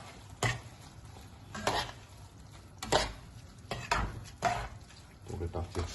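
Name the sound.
stirring crushed tomatoes into jambalaya in a pot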